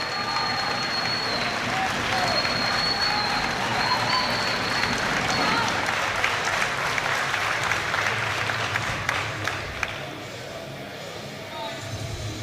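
Crowd cheering and applauding at a women's 63 kg powerlifting world championship deadlift attempt, a dense, loud, continuous roar of claps and shouts with whistles that stays up for most of the stretch before easing slightly near the end.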